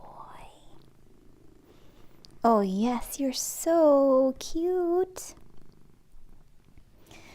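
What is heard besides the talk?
cat purring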